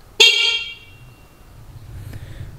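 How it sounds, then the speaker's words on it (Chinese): The horn of a new electric motorcycle in New Zealand gives one short, loud, close honk, followed by quiet background noise. "喇叭"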